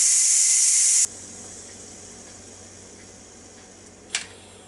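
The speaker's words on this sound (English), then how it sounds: "I'm going to release the pressure. Just flip the valve like that." Steam from a Ninja Foodi Deluxe pressure cooker blasts out through the release valve as a loud, bright hiss for about a second, then cuts off, leaving a quieter, steady hiss and mechanical hum with a short sputter near the end.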